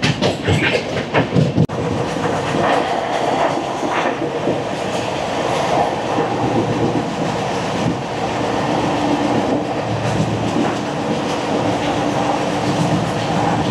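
The Samaleswari Express runs on tracks out of Howrah, a continuous close rumble of carriages with clickety-clack wheel beats and faint metallic squeals. A sharper burst of rattling comes near the start, and nobody speaks.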